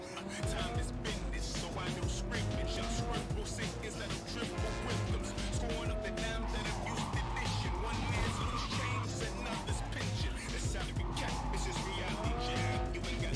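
Car tires skid and squeal under the handbrake while driving in Cyberpunk 2077, sliding through corners over a steady engine roar with game music, and someone talks throughout.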